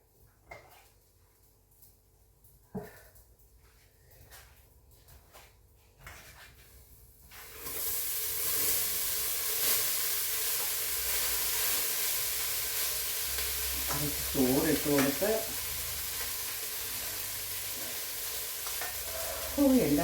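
Rice stirred and frying in hot ghee, a loud steady sizzle that starts abruptly after a quiet stretch of faint knocks and clatter, with scraping strokes of the spoon toward the end.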